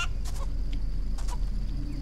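Chicken clucking in the video game Mini Ninjas, a few short clucks over a steady background hum of game ambience, moderately loud with no talk.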